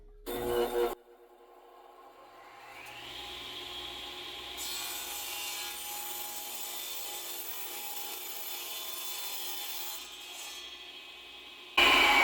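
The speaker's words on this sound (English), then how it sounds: "So I got the table saw all set up, set at the 10 degrees, and I'm just going to rip it" A table saw spins up and rips wood at a 10-degree bevel for a rocking horse restoration, giving a steady loud whine with the grind of the blade through the cut, starting and ending with brief clatter and no talking.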